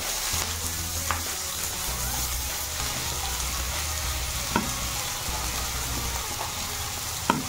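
Chopped onions and green chillies fry in oil in a pan for a bottle gourd curry, giving a loud, steady close-up sizzle with a few faint clinks of a spatula.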